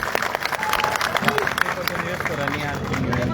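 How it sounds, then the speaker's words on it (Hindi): Applause and cheering from a crowd for the chief minister at a youth protest over a recruitment paper leak, steady clapping mixed with crowd babble and voices for about three seconds. "एक बार जोरदार तालियां मुख्यमंत्री जी के"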